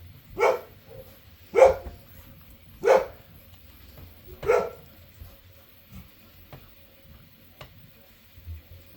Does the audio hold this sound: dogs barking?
yes